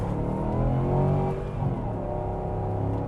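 A 2010 Volvo XC90 with a V8 accelerates hard onto a main road, the engine note climbing steadily with a strong harmonic roar heard from inside the cabin, loud and continuous for a few seconds.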